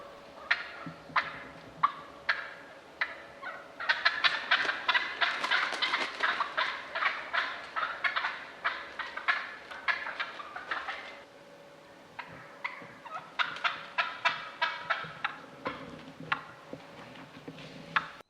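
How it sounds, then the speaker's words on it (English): Wild turkeys gobble and cluck as they fly off the roost, giving repeated rhythmic bursts of calls that rise into an overlapping chorus and then thin out, heard clearly with no talking. "listen to the difference in the rhythms of these actual turkeys flying off the roost"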